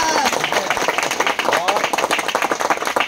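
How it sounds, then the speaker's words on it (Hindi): An audience claps for Priti, who has just bought a car, producing loud, fast, irregular hand claps that continue throughout, with voices and cheers mixed in. "सबसे पहले जोरदार ताली होना चाहिए प्रीति के।"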